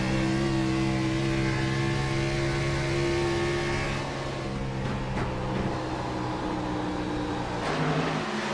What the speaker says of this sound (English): And listen to that throttle work.